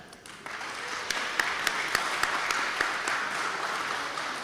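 Audience applause welcoming teams at the opening ceremony of the CEOAI 2026 competition at UBB, a sustained hall-filling patter of many hands, with a few sharper, regularly spaced claps near the front and a steady level throughout.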